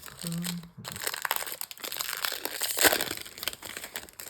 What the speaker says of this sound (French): il nous reste quand même beaucoup de boosters